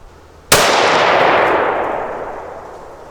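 A single loud rifle shot from a precision or hunting rifle at an outdoor range cracks sharply after a short quiet lead-in, then rolls into a long, slowly fading echo.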